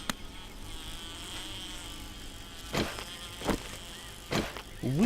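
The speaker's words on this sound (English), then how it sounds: "We are about to see our first bee, I think." A bee buzzes in the survival video game 7 Days to Die, a steady insect drone under a few sharp thuds and bursts of game noise, fairly close, with no talk.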